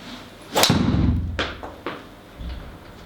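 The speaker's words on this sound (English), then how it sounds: "Shot number 3 with the TPX." A TaylorMade TPX golf ball struck solidly by a golf club: one sharp, loud impact crack near the start, followed by a low rumbling wash and a few fainter ticks, with no voices.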